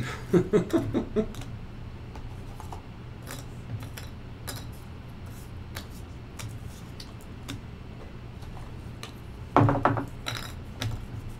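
Armor tokens for The Depths board game are handled and set out on a table during a playtest: scattered sharp clicks and light taps, with a quick cluster at the start and another near the end over a quiet background.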